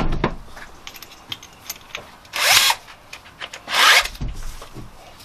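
A power drill whirs in two loud bursts, grinding into metal to drill out the ignition lock on a 1969 Ford Capri, with scraping and tool clatter between them.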